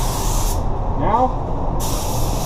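Spray gun laying down a drop coat of Axalta automotive paint, a steady close hiss that briefly cuts out mid-pass before resuming, with a faint voice in the background.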